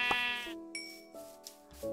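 Sheep in the Minecraft video game bleat several times in a row, each a short wavering cry, clear and close with nothing else heard.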